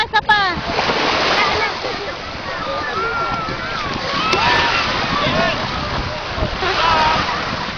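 Someone swimming in deep water makes continuous splashing and sloshing, close and loud, with wind buffeting the microphone while excited voices shout and cheer throughout.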